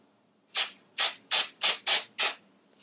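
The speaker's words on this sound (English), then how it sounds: "you shake it, get the brush, you spray it" Six quick spray bursts from a pump bottle, evenly spaced and close, each a short hiss with brief silence between.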